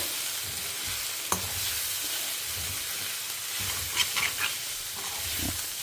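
Brinjal and grated coconut stir-fried in a pan, a steady soft sizzle with a few scraping stirs of a spatula against the metal, close and continuous without talk.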